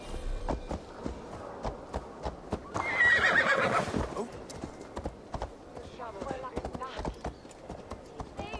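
A horse in the Assassin's Creed Valhalla video game gives a loud, shaky whinny midway, set among a steady run of crisp clip-clop hoofbeats that continue before and after it.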